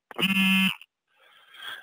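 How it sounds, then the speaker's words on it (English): A short electronic alarm sounds once, a loud steady buzzing tone lasting about half a second, then stops, followed by faint hiss and noise. "Sorry, I had an alarm go off."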